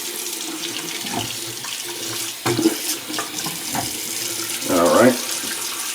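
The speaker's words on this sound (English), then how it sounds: "I'm going to fill the sink up with some hot water so we have something to dip the razor in" A bathroom sink fills with hot water from the tap for rinsing a razor during a shave: a steady, close rush of running water with splashy surges, and someone briefly speaks over it.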